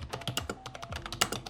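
Typing on a standard non-mechanical computer keyboard at a desk setup, with quick, irregular key taps that are light and close, heard alone without talk.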